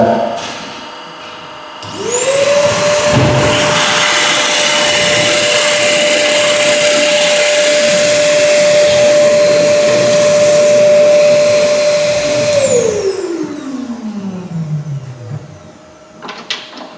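A power drill runs steadily at a constant pitch for about ten seconds, then winds down as the motor coasts to a stop, heard up close and loud with no talking.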